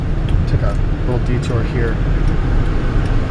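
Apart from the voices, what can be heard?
2007 Hyundai Entourage being driven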